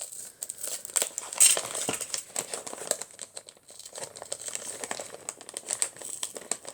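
Wrapping paper crinkles and rustles as a parcel of birthday gifts is carefully unwrapped without cutting, with steady close-up crumpling and brief tearing-like bursts throughout.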